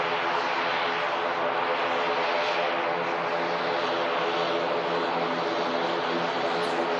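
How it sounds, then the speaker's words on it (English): A Loganair ATR turboprop airliner arriving from the Isle of Man at Manchester Airport, its steady propeller and engine drone loud and continuous throughout, with no talk over it. "Logan Air ATR in from the Isle of Man."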